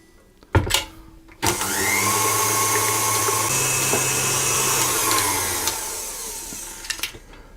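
Electric mixer whirs steadily, loud and close, blending lemon juice, lemon zest and vanilla extract for Italian lemon knot cookie dough, starting after a couple of knocks and cutting off near the end.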